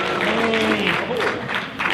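An audience in a church claps together through a brief round of applause, dense and close, while a voice speaks over the clapping.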